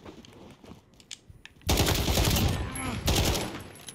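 Rapid bursts of Uzi submachine gun fire in a Modern Warfare online match, loud and continuous after a quieter opening with faint game noise and brief voice.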